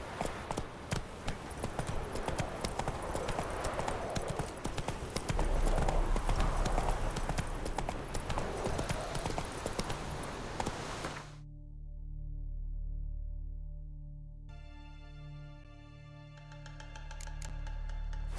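Horse hooves gallop rapidly and continuously in The Witcher 3 video game, a dense clip-clop rhythm that ends abruptly as the scene shifts to quiet game music.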